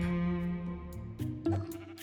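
Sheep bleating in the Minecraft video game, a sustained game-style bleat followed by a couple of shorter bleats, fairly close and clear with no talk over it.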